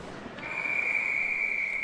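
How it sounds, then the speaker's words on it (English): A referee's whistle blows at a college hockey game between Miami and Florida Southern, a single sustained shrill tone lasting over a second amid crowd and arena noise. "hand pass is the call as the whistle blows"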